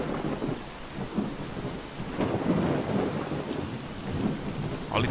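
Rain lashes down in a STALKER game thunderstorm, a dense steady hiss carrying low rumbles of thunder that swell and fade across the stretch, with no one talking.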